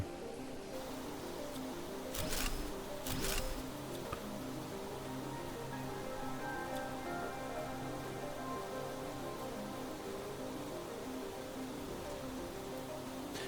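Rain falls steadily in the Planet Crafter video game, a soft, continuous patter under a low hum with a couple of brief louder bursts near the start, no talking.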